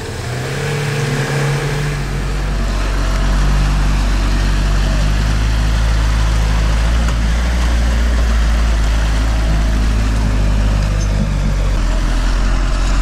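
An off-road vehicle, such as a UAZ, Niva or Ford, strains to pull a stuck car out of mud. Its engine drones loud and steady, swelling after a few seconds and holding a heavy, continuous roar.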